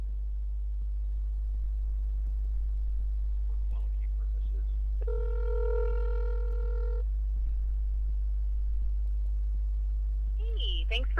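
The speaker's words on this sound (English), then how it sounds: "my phone will start ringing" A phone rings with an incoming call, a single electronic ringtone burst of about two seconds rising over a steady low hum and otherwise quiet background.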